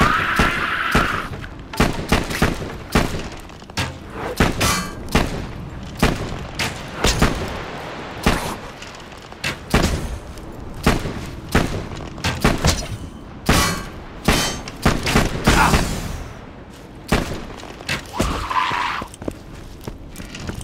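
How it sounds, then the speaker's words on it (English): Video-game gunfire from a horde of skeletons in Tiny Tina's Wonderlands, loud repeated bursts of shots and impacts in a busy, chaotic battle mix with scattered explosions. "They start shooting at you!"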